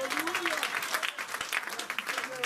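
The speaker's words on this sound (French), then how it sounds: "Donnons une acclamation au Seigneur." A church congregation claps for the Lord, a brief burst of dense, lively applause with a voice calling out over it throughout.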